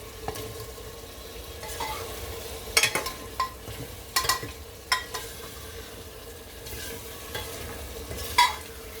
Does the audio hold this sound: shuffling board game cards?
no